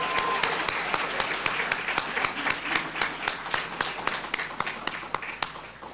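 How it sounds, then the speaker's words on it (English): At a library literacy program graduation ceremony, the audience claps for the graduating class, a steady round of many hands with crisp, regular individual claps standing out over six seconds. "you can clap for that"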